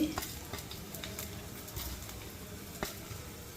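Tempering of urad dal frying in oil for ivy gourd chutney gives a soft, close sizzle with scattered small crackles and stirring taps, fairly quiet throughout.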